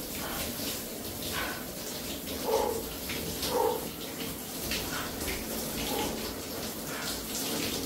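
Cold shower water running after a gym session, a continuous steady spray and splash, close and moderately loud, with a couple of brief knocks.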